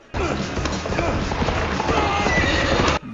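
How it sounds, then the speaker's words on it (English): Horse hooves clip-clop during a loud action scene from the film John Wick Chapter 3, with heavy thuds, crashes and whinny-like sounds in a dense, close mix over about three seconds. "Way to utilize a horse."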